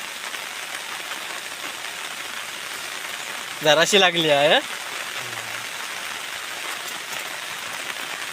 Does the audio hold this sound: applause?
no